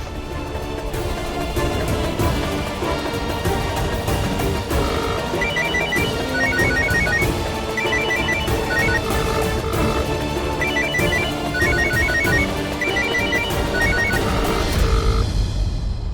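A phone ringtone chimes in a repeating melodic pattern over a busy music backdrop, sustained for most of the stretch.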